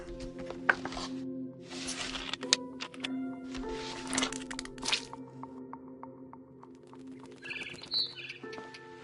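A barn swallow chirps outside a window in the game What Remains of Edith Finch, with short high tweets against a low steady hum, broken by a few sharp knocks and thuds.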